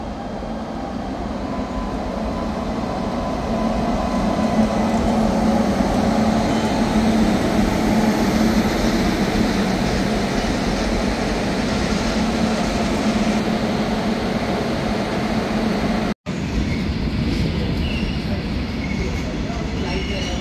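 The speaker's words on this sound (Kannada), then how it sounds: "ಅದರ ಪರೀಕ್ಷಾರ್ಥವಾಗಿ ವಿದ್ಯುತ್ ಚಾಲಿತ ಗೂಡ್ಸ್ ರೈಲನ್ನು ಪ್ರಾಯೋಗಿಕವಾಗಿ ಓಡಿಸಲಾಯಿತು" An electric goods train running along a railway line on a trial run, heard as a continuous, fairly loud rolling rumble of wagons throughout.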